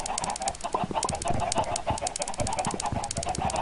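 Chickens clucking in the Minecraft video game, a dense, busy chorus of repeated clucks and squawks with steady loudness throughout, no voices.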